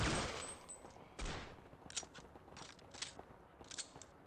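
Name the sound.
gunfire in Counter Strike video game on original Xbox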